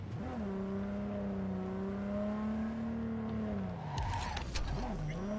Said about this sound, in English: There's a Mitsuani car or whatever.